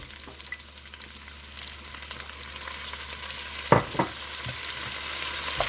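Onions and celery sizzle steadily in a pan with cooking bacon, a continuous broadband frying hiss that builds gradually, broken near the end by a couple of sharp clacks from a spoon or utensil against the pan.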